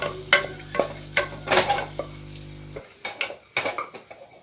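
Roasted cashews are scooped from a pan into a separate vessel, making a series of close, sharp metal clinks and scrapes of spoon against cookware, with a low steady hum beneath for most of it.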